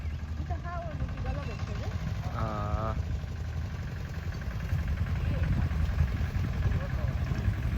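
A farm tractor engine runs steadily in a field, a continuous low rumble close by, with a sheep bleating briefly and a person speaking a single short word.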